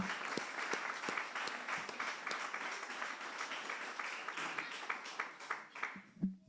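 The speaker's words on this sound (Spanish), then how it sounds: "Podemos darle un aplauso al Señor." A church congregation applauds steadily, a dense wash of clapping that thins into a few scattered, louder individual claps near the end.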